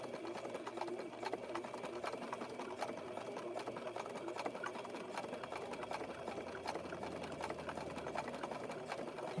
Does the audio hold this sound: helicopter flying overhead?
no